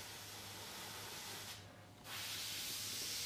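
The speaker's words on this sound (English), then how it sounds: "And then I just spray the thinner completely out." A close, steady airbrush hiss sprays thinner out continuously, briefly cutting out for a moment before resuming at full force.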